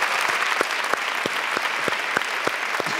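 Studio audience applauding on a late-night TV comedy show, a steady wash of clapping with crisp individual claps standing out, sustained and fairly loud throughout.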